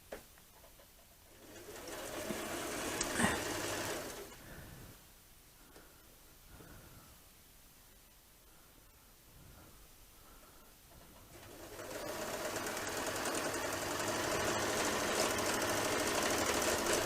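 A sewing machine runs during free motion quilting, its steady mechanical whir rising and falling in bursts, fading quieter through the middle and returning louder and continuous toward the end, with no talking.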